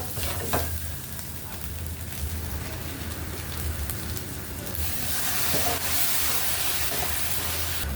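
Spicy Thai seafood stir-fry with fingerroot, eggplants, green peppercorns, red chilies and kaffir lime leaves sizzles loudly in a hot pan, a dense continuous hiss with scraping stirs, growing brighter in the second half, no voices.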